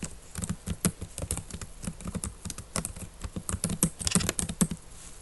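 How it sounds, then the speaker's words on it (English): Rapid, uneven typing on a computer keyboard while data is entered into an administrative software field, a steady close patter of key clicks running throughout with no voices. "You can just type data."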